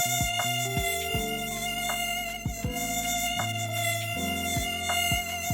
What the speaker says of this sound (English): The mosquito, which Potion calls Mosquito Single Annoying Noise, is actually Mosquito Buzzing from Sound Ideas Series 1000 General Sound Effects Library,